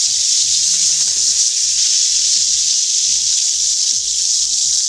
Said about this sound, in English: All right, so I hear the bacon.